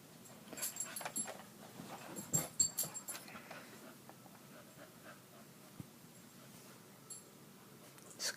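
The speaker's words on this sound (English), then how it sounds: "Sorry for my dog, this is noise." A dog whimpers and pants close by in a quiet room, soft breathy huffs and faint whines clustered early, then tapering to sparse quiet sounds.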